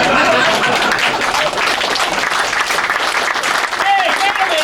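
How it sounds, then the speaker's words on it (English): An audience at a workplace safety and health day program applauds, a dense, continuous wash of clapping from many hands held at an even level throughout. "No clapping, please."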